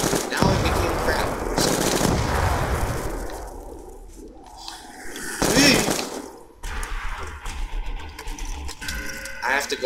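Rapid gunfire from a gun in Black Ops II Zombies on the Farm map, several loud bursts broken up by quieter stretches, with someone talking over much of it.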